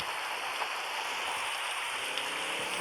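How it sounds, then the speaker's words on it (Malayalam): Heavy rain pours down in a dense, steady roar of countless drops striking surfaces close by. It stays loud and unbroken from start to finish, with no voices. "ഭയങ്കര നല്ല മഴയാ"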